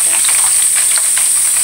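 Annatto seeds sizzle steadily in hot chicken oil, a loud, dense, continuous frying hiss with scattered small crackles and pops throughout.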